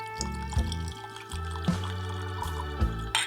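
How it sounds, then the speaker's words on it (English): Clyde May's bourbon whiskey is poured into a glass, with short glugging pours and small clinks close by, stopping and starting a few times. "a little pour there"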